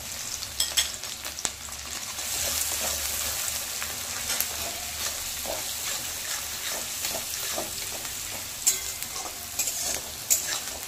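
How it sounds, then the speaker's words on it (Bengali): Chopped onion and slit green chillies fry in a pan with cumin seeds, giving a steady close sizzle broken by scraping stirs over about eleven seconds, with no talking. "পেঁয়াজটাকে একটু ভালো করে ভেজে নেব।"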